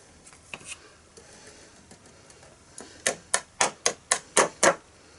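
A paper card dusted with embossing powder is tapped on a surface, a few faint taps at first and then a run of seven sharp, evenly spaced raps close by, with no talk.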